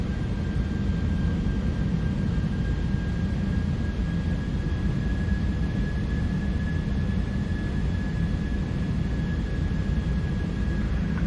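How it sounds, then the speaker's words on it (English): Airbus A319 in Delta livery flying in the X-Plane 12 flight simulator, heard as a steady, continuous engine and cabin drone with a faint constant whine throughout and no talking. "I love the Airbus sounds."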